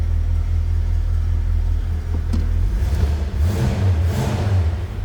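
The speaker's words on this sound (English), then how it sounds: "Nice sounding car, nothing crazy over the top." A 1966 Ford Mustang convertible running after a cold start, its engine giving a steady, loud low rumble at idle that shifts into a rougher, throatier tone partway through, heard up close with no talking.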